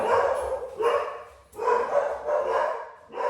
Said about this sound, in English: Dogs are barking, sorry.